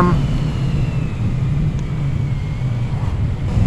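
Honda PCX 125 scooter engine at full throttle, a steady low drone mixed with road and wind rush while a rider talks over it.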